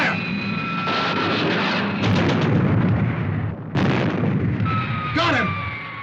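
A ship's gun fires in heavy booming bursts, with two loud blasts separated by a brief gap, over a rumbling background and a sweeping high whine.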